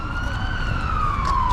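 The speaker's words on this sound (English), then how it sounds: "There was just an ambulance flying by me." An ambulance siren wails loudly close by on a Warsaw street at night, its steady tone sliding slowly downward as the vehicle speeds past over dense traffic rumble.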